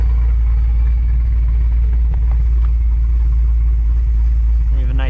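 A car engine holds a steady, even idle with no surging, a loud continuous low rumble that stays constant throughout, with no talk over it.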